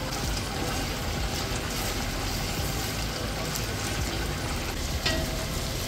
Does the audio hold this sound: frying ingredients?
yes